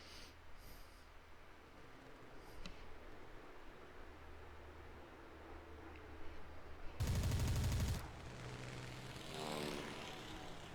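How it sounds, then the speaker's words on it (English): Gunfire in a combat flight simulator match between aircraft: a dense one-second burst of rapid machine-gun fire over a constant propeller-engine drone, with faint earlier pops. "Not getting any bullets on Marhigan though"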